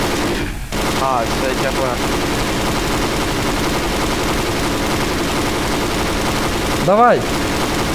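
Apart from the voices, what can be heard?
gunfire in Garry's Mod video game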